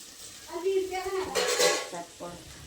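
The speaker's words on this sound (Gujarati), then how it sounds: "આ બસ તો ભીંડાનું શાક વઘારીશું" Okra curry being tempered in a hot pan in a home kitchen, a short burst of close sizzling and frying with a few utensil clinks and stirring scrapes.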